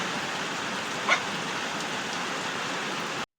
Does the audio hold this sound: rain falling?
yes